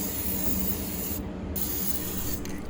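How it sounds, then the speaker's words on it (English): Steady close hiss of an aerosol can spray painting cardboard card boxes cool toned yellow, running continuously with a brief pause in the middle before resuming. "So I'm gonna spray paint these and then let them dry."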